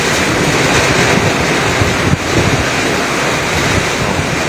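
Strong wind from a sudden storm with rain blows hard into the microphone, a loud, steady roaring rush that carries one brief thump midway and has no speech.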